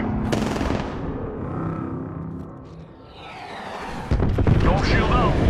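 Airstrike explosions in Apex Legends, season 7, booming in a heavy burst at the start and again near the end, loud and rumbling with a crackling tail between, a voice speaking over parts of it.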